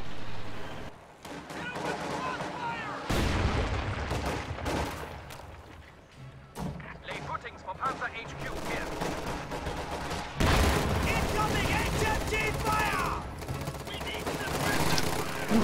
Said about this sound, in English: Just getting cut down by an ever-increasing blob of Fallschirmjäger and vetted LMG grens and heavy machine guns